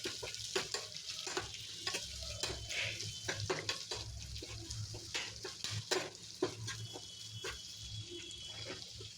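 Onions for tamarind rice fry on a low flame with a soft sizzle, broken by repeated scraping and clatter as a spoon stirs them through the pan.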